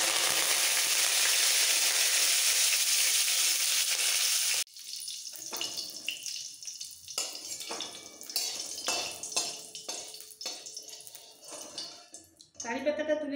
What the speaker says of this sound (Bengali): এইবার এই তেলের মধ্যে কারি পাতাটা ভেজে নেব।